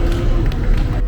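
A theme-park crowd at a Galaxy's Edge show in Disney's Hollywood Studios erupts in a brief, loud burst of cheering and clapping close around the listener, dense and sustained for about a second.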